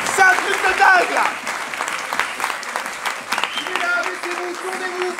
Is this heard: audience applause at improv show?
yes